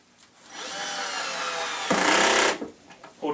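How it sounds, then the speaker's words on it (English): A power drill drives screws while assembling a lazy Susan cabinet with interlocking metal brackets, giving a loud, close whirring burst that swells for about two seconds, then cuts off with brief trailing rattles. "if you get it just right, it's got what's called a ratchet"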